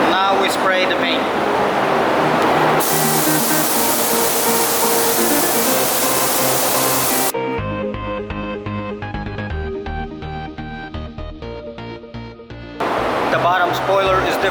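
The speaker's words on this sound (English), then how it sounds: "Now we spray the paint." Paint sprayed onto a plastic car bumper on a damaged Nissan GT-R under repair: a steady, loud hiss from the spray gun, with stretches of music.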